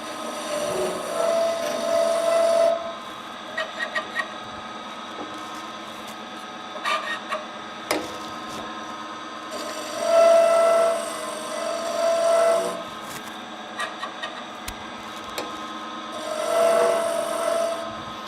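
A woodturning tool trues a spinning wooden workpiece on a lathe, giving scraping bursts of cutting noise that come and go over a steady motor hum, close and moderately loud.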